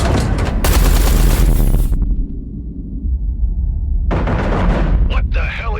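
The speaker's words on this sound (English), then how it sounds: "Eduardo, concentrate artillery fire on Blakemore's carrier." Heavy artillery fire pounding a carrier in the space combat game Everspace 2: loud, dense bursts of booming fire and rumbling explosions come in two sustained volleys separated by a lower rumbling lull.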